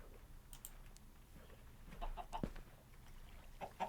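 Chickens cluck in Minecraft, a few short, soft clucks scattered over a quiet game background with no talking.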